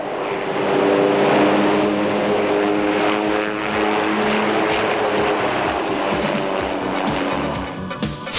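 Steady, loud helicopter engine drone with a thrumming rotor tone, continuous for several seconds with no talking.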